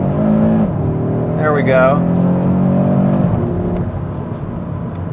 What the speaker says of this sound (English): But if I put it in manual mode, which I will do right now, so I'm in third, I'm gonna downshift to second.